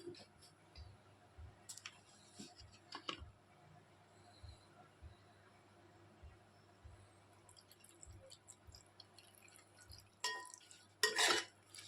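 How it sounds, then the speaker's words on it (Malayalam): A spoon stirs gooseberry pickle with vinegar in a pan, tapping softly against the metal in an even rhythm, then a louder scrape and clatter come near the end. "ഇളക്കി കൊടുക്കാം."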